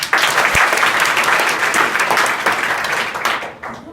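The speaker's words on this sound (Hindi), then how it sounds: "सर के लिए एक ताली बजाइए" A college audience in Azamgarh breaks into loud, dense applause for a sir being thanked, sustained clapping close and full that fades out toward the end.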